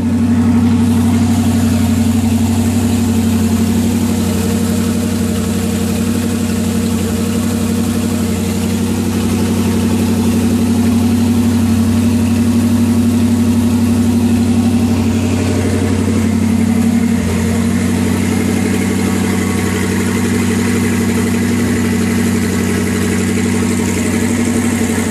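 A warmed-up 1964 Corvette 327 V8 idles on an engine stand, running on 112-octane race fuel, with a steady, loud, close rumble that holds an even beat throughout and no talking.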